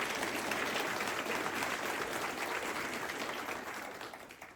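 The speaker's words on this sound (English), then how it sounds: "So that alone deserves a round of applause for you guys." Sustained applause from a seated audience at a Basic Leader Course graduation ceremony, a dense steady clatter of many hands that begins to taper off near the end.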